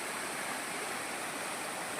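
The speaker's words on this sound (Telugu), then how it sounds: "వాటర్ ఫాల్ వచ్చింది." A waterfall at Lonavala rushes in a steady, dense roar of falling water that is close and continuous, with no voices.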